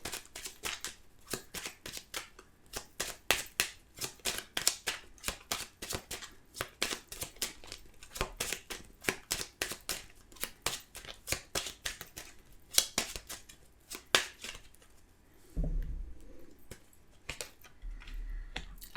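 Oracle cards are drawn and slid off a deck in a long run of quick, crisp flicks and riffles, close and steady, with a soft thump near the end and no talking.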